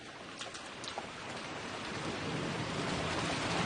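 Steady rainfall pattering on surfaces during a procession in Cuenca, Spain, with a few distinct drips early on, the hiss growing slightly louder and denser over a few seconds.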